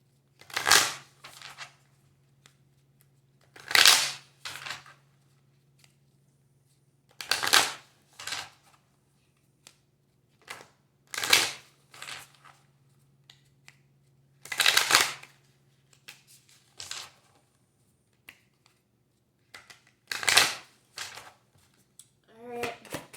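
Tarot cards are shuffled close up in repeated short riffling bursts, roughly every three to four seconds, quiet between, with a faint steady hum underneath.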